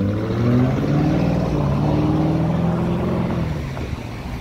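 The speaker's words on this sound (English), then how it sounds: "Well, the exhaust sounds nice." Gray Lamborghini Urus pulling away on a Beverly Hills street, its exhaust a steady, fairly loud low drone that slowly fades as it drives off, with no talking.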